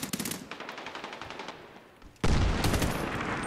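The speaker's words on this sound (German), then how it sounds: "Und hier wird geschossen." Automatic machine-gun fire in the online shooter Medal of Honor Warfighter, Somalia Stronghold map, rattling in fast bursts, then a loud close burst of gunfire kicks in after a quieter stretch.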